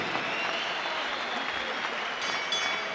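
Spectators at a boxing match cheer and applaud after a twelve-round world cruiserweight title bout in a gym, a loud, continuous wash of crowd clapping and noise with no break.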